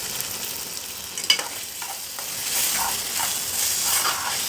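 Brinjal and ridge gourd mixed vegetable curry cooks in a pan with a steady, soft sizzle and bubbling hiss that rises slightly partway through, with no talking.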